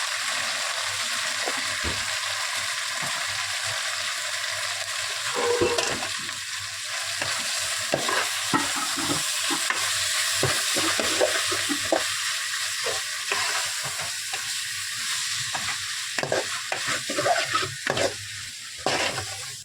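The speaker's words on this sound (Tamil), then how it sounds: "ஒரு 2 நிமிஷம் அப்படியே கிளறி விடுங்க" Potato fry with chili powder and chicken masala is stirred in a pan, with a continuous sizzle broken by repeated scraping and tapping strokes of the spoon, close and steady without talk.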